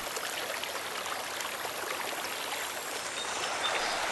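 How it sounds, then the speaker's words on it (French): The monumental cascade in Parc de la Ciutadella, Barcelona, pours as a dense, even hiss of falling water, steady and unbroken throughout, with no speech. "Le célèbre architecte catalan Antoni Gaudí participa dans sa jeunesse à la conception de cette cascade monumentale"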